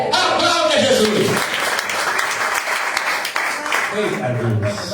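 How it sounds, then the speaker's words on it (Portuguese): A church congregation at a deliverance service applauds continuously, a thick wash of clapping blended with raised voices and excited talk throughout. "Aplauda Jesus."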